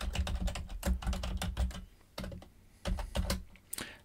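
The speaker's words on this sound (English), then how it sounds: "So I'm gonna type print and then parentheses, then double quote" Typing on a computer keyboard while entering Python code, a quick irregular run of sharp clicks with brief pauses, close and crisp with no talk.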